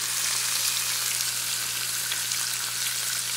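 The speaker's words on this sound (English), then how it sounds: "Okay, fry now." Food fries in a single frying pan, a steady, close hiss of sizzling oil that runs unbroken and fairly loud throughout, with no talking.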